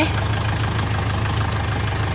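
A steady low tractor engine idles in a video game with a throbbing rumble, continuous and fairly close, with no other sounds over it.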